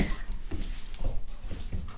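Puppies whimper and yip softly indoors, a series of short whiny cries repeating at irregular intervals, close but fairly quiet, with no talk.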